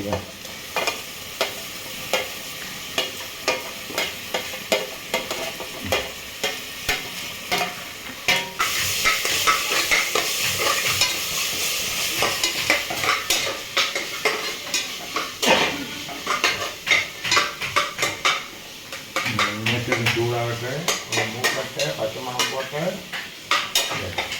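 Garlic, green chili and ginger fry in a large pot of oil for wedding-style chicken biryani, a loud steady sizzle broken by repeated metal spoon scrapes and clanks as the mix is stirred, with a voice talking at times.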